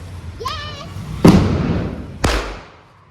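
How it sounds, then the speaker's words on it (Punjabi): Two sharp firecracker bangs during Diwali in Bathinda, loud and close, each followed by a brief rumbling decay, with a whistling rise before the first. "ਦੇਖੋ ਪਟਾਕੇ ਚੱਲਦੇ ਜਾਂਦੇ ਆ"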